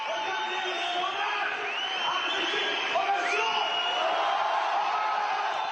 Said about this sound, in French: Les 5000 spectateurs applaudissent.